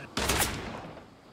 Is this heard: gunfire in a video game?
yes